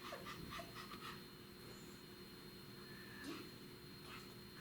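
A puppy dog pants quietly and quickly, rhythmic breathy puffs over a low constant background hum indoors, with no voices.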